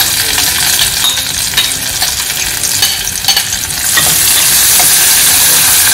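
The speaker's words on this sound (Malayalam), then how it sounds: "അപ്പോൾ ഞാൻ ഉള്ളി ആഡ് ചെയ്യാണ് ഇതിൽ." Coconut with onions frying loudly in a pan, a steady close sizzle with scraping stir strokes and small clinks throughout, intensifying near the end, with no voices.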